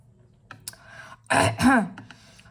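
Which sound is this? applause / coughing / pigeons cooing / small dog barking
coughing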